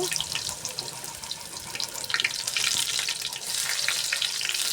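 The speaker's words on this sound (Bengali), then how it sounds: "তেল গরম হয়ে গেছে এখন পেঁয়াজগুলো দিয়ে দিব" Onions dropped into hot oil in a cooking pot, a loud continuous crackling sizzle that swells and stays dense throughout, close up with no talking.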